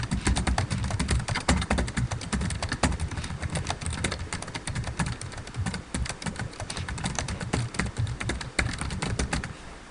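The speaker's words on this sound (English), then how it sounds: "I'm going to type in my passage." Steady, dense clatter of keys being typed on a computer keyboard, close and continuous with no pauses or voices.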